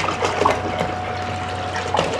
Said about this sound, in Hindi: ये मोटर चल गई है और ये इस बाल्टी से पानी उठा रही है